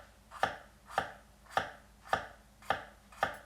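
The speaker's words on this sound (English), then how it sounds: "make cuts about 1/8 inch thick again" Six evenly spaced crisp knife chops through a sushi garnish on a cutting board, each a sharp close tap roughly half a second apart, with no talking.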